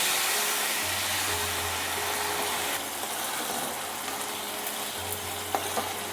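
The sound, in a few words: water added to sizzling fried spice paste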